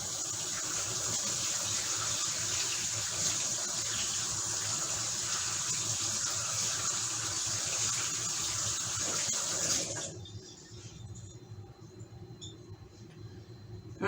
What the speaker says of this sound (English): go ahead and rinse my hands off here